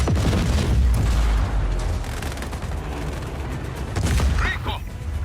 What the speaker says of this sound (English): the explosion, the gunfire, it's unnerving